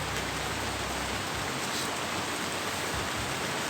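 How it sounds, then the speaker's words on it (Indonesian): Light drizzling rain falls steadily outdoors, a dense, even hiss with no individual drops standing out, holding at the same level throughout alongside a faint low rumble at the start. "Hujan ngerincik ya."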